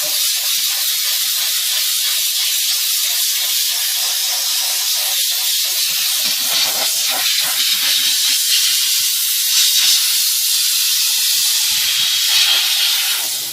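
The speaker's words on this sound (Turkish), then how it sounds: "Yani buhar bezin giremediği noktaya giriyor." Close, loud, unbroken hiss from a steam car wash machine spraying steam, holding steady from start to finish with slight wavering.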